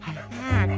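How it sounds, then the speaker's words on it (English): A puppy gives a short yip that rises into a brief whimpering bark, close and fairly loud, lasting under a second. "Oh, puppy."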